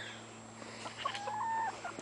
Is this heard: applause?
no